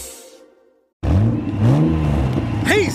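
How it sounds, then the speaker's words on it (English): A monster truck engine revs at a muddy-track rally, a loud roaring burst that rises suddenly after a brief quiet moment and holds steady with a whooshing pass at the end. "a heart-pounding, earth-shaking monster truck rally, where huge trucks with tires bigger than my entire family zoom around a muddy track"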